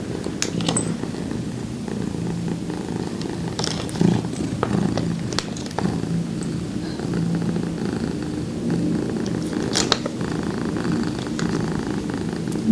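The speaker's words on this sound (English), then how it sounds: "He's a good kitty to help you relax and enjoy your session today." A cat purrs steadily and close, a continuous low rumbling with rhythmic breaths, alone during a quiet makeup session.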